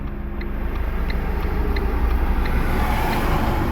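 A learner car's engine idles steadily, held at the clutch biting point for a hill start at a driving school's training ground, a continuous close low hum with no speech.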